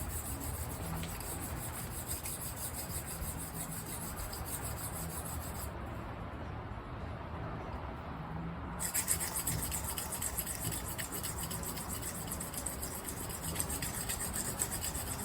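A knife edge being repaired is ground on a coarse sharpening stone of about 80 grit, making a steady, close, continuous rasping scrape with no break in the strokes.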